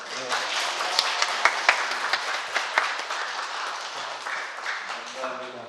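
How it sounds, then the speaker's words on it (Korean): A church congregation applauds a lay preacher at a Sunday worship service. The clapping is dense and sustained, a room full of hands in an irregular patter with a few sharper claps standing out, fading slightly toward the end. "우리 권사님 일어나서 인사할 때 큰 박수 칠까요?"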